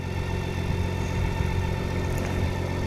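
A motorcycle engine runs off throttle while downshifting, giving a steady mid-pitched hum at near-idle, close and continuous, with no talking.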